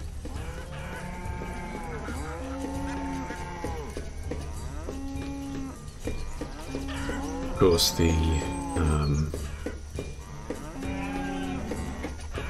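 Cattle in the village-building game Banished low with repeated moos, several calls spaced through the clip over a steady game ambience, with a brief spoken remark partway through.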